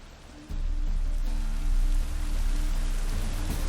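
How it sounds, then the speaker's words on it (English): Steady rain falls in The Witcher 3 video game, a continuous hiss that starts abruptly and holds evenly over a low, faint hum, with no voices. "It just rains and rains."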